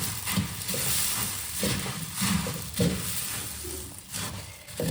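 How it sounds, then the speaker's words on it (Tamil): Puffed rice is stirred into hot jaggery syrup in a pan on the stove for pori urundai, giving rhythmic scraping and crackling strokes over a faint steady sizzle. "இப்போ பொரியெல்லாம் போட்டு கிளறிடலாம்."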